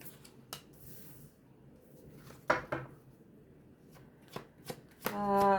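Tarot cards are handled and shuffled in a quiet room, giving soft riffles and crisp snapping flicks in short bursts, close and clear, with a brief louder shuffle near the end.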